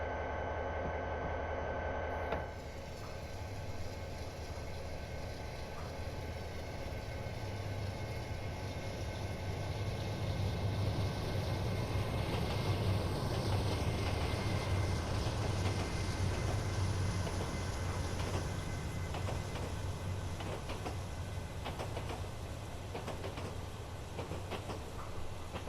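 A freight train of empty coal cars rolls past up close on the Castle Rock railroad, a long continuous rumble with steady clickety-clack of wheels over rail joints.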